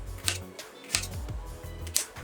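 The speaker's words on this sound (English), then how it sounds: "we're gonna cut them into about 2-inch pieces" A knife chopping bitter melon into pieces on a cutting board, three crisp evenly spaced cuts sounding up close.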